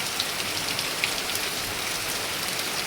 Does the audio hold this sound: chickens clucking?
no